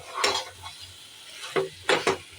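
Boiled chicken turns with spices in a pan over a low flame, a quiet bed of soft sizzle broken by a few scraping strokes of a spoon and light clinks against the metal.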